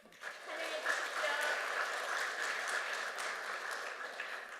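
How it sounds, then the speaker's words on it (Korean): Church audience applauds to welcome a guest speaker, a steady, moderately loud patter of many hands filling the room throughout with no break. "박수로 환영해 주십시오."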